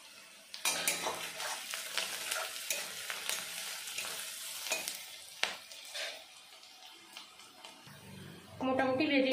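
Turmeric fries in a pan while a spatula stirs it, producing a soft close sizzle with scattered scrapes and one sharp knock. A voice begins speaking near the end.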